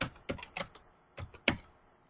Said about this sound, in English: I'm going to go ahead and type in Neihardt